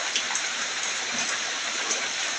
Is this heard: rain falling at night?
yes